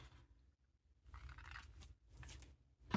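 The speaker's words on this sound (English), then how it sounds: "Finally, cut along the envelope fold line." Scissors cutting along the fold line of a paper envelope in a craft project, a few quiet close snips and rasping cuts in short bursts, with no talking.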